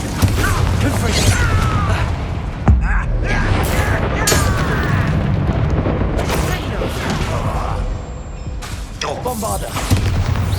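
A Confringo spell blast in the video game Hogwarts Legacy goes off as loud booming explosions amid heavy combat noise, with several sharp impacts and voices in the mix.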